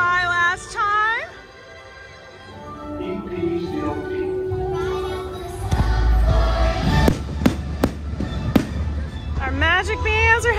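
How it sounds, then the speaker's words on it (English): Fireworks from the Epcot Forever show burst over the Epcot lagoon at night, several sharp booming cracks in the middle of the clip amid a low crowd murmur, with voices heard at the start and end. "Fireworks are beginning right now over the lagoon."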